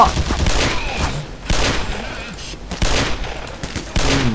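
.357 Magnum revolver shots in the video game Half-Life Black Mesa: four loud, sharp reports spaced about a second apart, each followed by a short echoing tail, with someone talking underneath.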